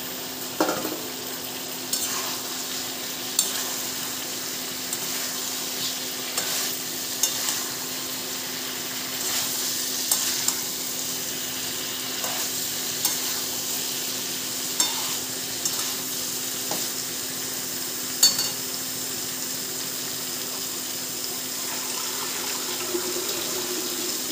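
Fried dhoka, Bengali lentil cakes, go into a pan of simmering gravy for dhokar dalna, giving a continuous soft bubbling sizzle broken by irregular light clinks and stirring knocks of a utensil, close up and without talk.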